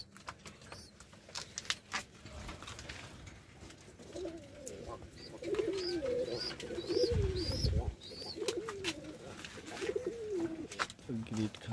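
Caged pet pigeons cooing at night, a series of soft, rolling coos from several birds close by, growing busier toward the end, with faint rustling and patter in the cage.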